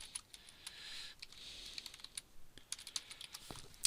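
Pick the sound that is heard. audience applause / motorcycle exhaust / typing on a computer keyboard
typing on a computer keyboard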